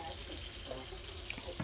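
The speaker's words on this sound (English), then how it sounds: "I need to wash his bowl." Tap water runs steadily into a sink while a cat's water bowl is washed, a continuous faint hiss and splash with no clear break.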